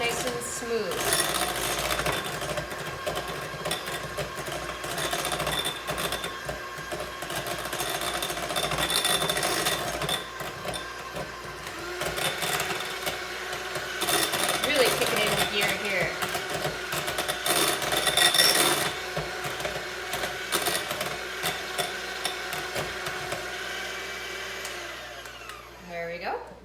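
Electric hand mixer whirring steadily through cream cheese brownie batter for a swirl topping, a continuous motor drone that rises and falls slightly as the beaters work, with a person talking over it.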